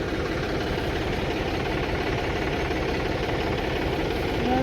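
A stuck tractor's engine idles with a steady, close, throbbing rumble that holds at an even level throughout, with no voices.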